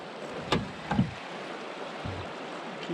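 River rapids rush around a canoe, a steady broad wash of moving water with a few hollow knocks and splashes against the hull.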